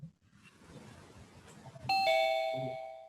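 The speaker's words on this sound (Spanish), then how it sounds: "¿hay un timbre que suena?" An entrance doorbell chime rings as people come in, a bright two-tone ding-dong that starts partway through over a faint background murmur and rings on as it fades.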